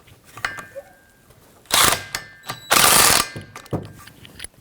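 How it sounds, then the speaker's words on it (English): Ratchet clicking as a 14mm socket snugs the driveshaft bolts on a 2007-2017 Jeep Patriot 2.4L, with two loud sustained ratcheting bursts and a few shorter clicks, close up and with no talking. "we're just going to take our 14mm socket, give them a nice snugging"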